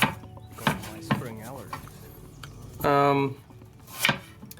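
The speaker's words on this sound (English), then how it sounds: "And then we cut the apples into little slices." A few crisp knife chops slicing apples in a cooking video game land as separate, sharp strikes among gliding, chiming electronic tones.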